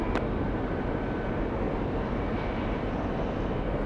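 Airliner on takeoff roll from runway 31 left at LAX, a steady loud broadband engine roar holding even through the whole stretch, with no voices.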